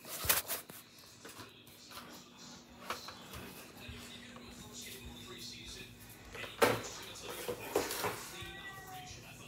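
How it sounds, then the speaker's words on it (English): A house cat meows a few times, short calls near the end, amid household rustling and drawer noises, with a person talking nearby. "Sorry, that's my cat."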